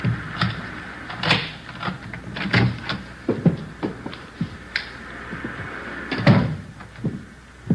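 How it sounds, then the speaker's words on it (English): A front door being unlocked with a key and swung open in an old radio crime drama: a string of sharp clicks, rattles and knocks from the lock and latch, close by and fairly loud, with no talk over them. "There's the front door key. See if you can work it."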